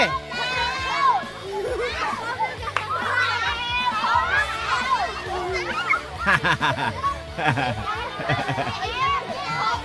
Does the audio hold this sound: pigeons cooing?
no